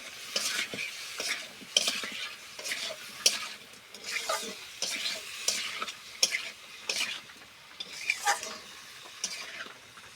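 Mutton being stirred and sautéed (kosha) in a pan over a clay stove: steady close sizzling broken by repeated rhythmic scraping strokes of the spoon, with no voices.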